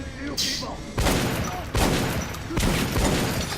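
Rapid bursts of gunfire from a weapon in the video game Metro: Last Light, several loud volleys cracking out one after another with short gaps, close and dominant, with a brief voice near the start.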